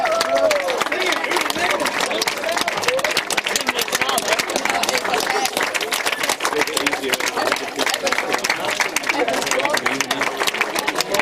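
Wedding guests applauding after the groom's speech and song, a dense, steady wash of clapping from a crowd with cheering and chatter mixed in throughout.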